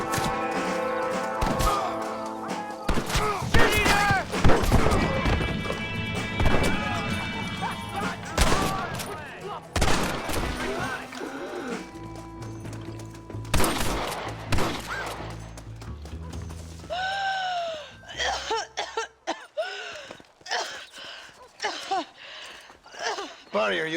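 Gunfire in Red Dead Redemption, scattered loud shots and cracks mixed with heavy thuds and crashes, close and dense in the first half, with voices shouting and talking throughout, then thinning into talk.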